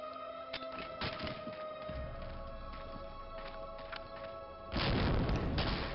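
Grenade explosions in the World War II shooter Medal of Honor: Allied Assault: scattered thuds and hits give way to a loud, sustained blast near the end that lasts over a second.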